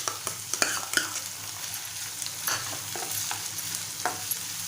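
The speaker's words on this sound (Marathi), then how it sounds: "आता आपण मोड आलेले मूग घालून घेऊया" Sprouted moong beans stir-fried in a pan with softened onions give a steady close sizzle, punctuated by irregular scraping and tapping strokes of a spatula.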